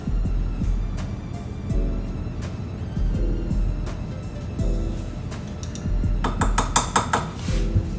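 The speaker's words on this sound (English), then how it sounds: "I'll mix that all in." Spoon mixing flour, baking powder and salt in a bowl for a trifecta cookie recipe: repeated scraping and clinking strokes against the bowl in uneven bursts, close and fairly loud.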